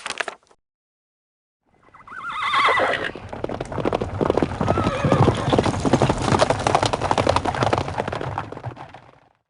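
A horse in the Time and Place video game neighs and then gallops with steady clip-clop hoofbeats, loud and close, continuing for several seconds after a short silence.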